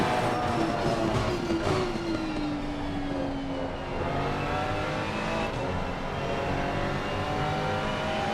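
GT3 race cars, a Ferrari and a Ford, running in a racing video game at Barcelona: loud, sustained engine howls whose pitch rises and falls steadily as they run down toward a corner.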